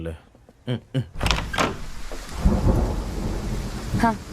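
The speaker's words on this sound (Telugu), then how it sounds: "వర్షం పడుతోంది, లోపలికి రా" Deep rolling thunder rumbles over a steady wash of rain, with a few brief voices near the start before the storm swells.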